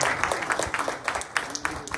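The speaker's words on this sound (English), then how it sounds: "Give Lord a hand clap." A church congregation claps during a worship service, a moderate patter of hands with some sharper individual claps, voices faintly underneath.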